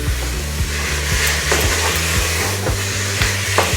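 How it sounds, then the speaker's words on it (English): Mutton keema being stirred into cooked onions in a frying pan, a steady close sizzle with repeated scraping strokes of the spoon in an even rhythm, with no talk over it. "Mix thoroughly"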